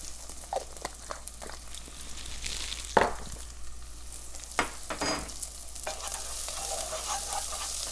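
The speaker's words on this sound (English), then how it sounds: "I also like to toast a couple threads of saffron in with my alliums" Saffron threads toasting with alliums in a pan give a soft steady sizzle, broken by scraping stirs and occasional clatters of a utensil, close and fairly quiet with no talking.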